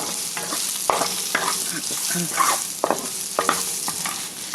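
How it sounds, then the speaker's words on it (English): Shrimp being part-cooked for Vietnamese crispy fried chow mein sizzles loudly in a hot pan, with frequent close scrapes and tosses of the spatula over a continuous frying hiss, no talking. "we're also not going to fully cook our shrimp, just until almost done."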